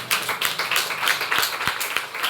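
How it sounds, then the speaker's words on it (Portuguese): Church congregation clapping in worship, scattered rhythmic hand claps with a couple of sharp, distinct strikes over a murmuring room, no clear speech. "As palmas cultuam a Jesus."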